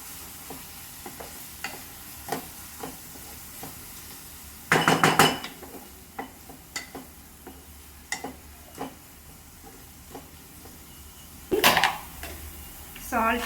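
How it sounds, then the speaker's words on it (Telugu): Chicken marinade is stirred in a bowl, with scattered clinks and scrapes of a spoon against the dish and a couple of louder clattering bursts, close by and without a voice. "ఇది బాగా మిక్స్ చేసుకోవాలి."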